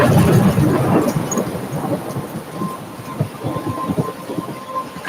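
A storm rages in a lighthouse adventure video game, heavy rumbling thunder and rain roaring loud and close, rolling on continuously with pulsing low rumbles and no voices.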